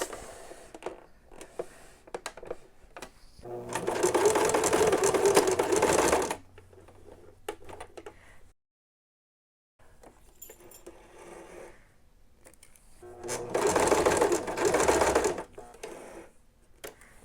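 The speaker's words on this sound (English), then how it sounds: "I'm going to go ahead and sew this up." A sewing machine stitches pinned slow-stitch textile art of a raven in two long, steady bursts, close and fairly loud. Quieter fabric handling fills the gaps, with a brief silence between the bursts and no talking.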